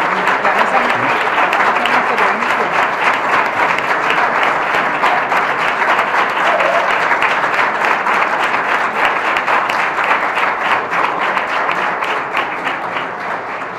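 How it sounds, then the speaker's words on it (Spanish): A standing regional assembly in Murcia applauds its newly elected president with long, loud, even clapping from many hands that holds steady and tapers slightly at the end. "Nos ponemos de pie y aplaudimos."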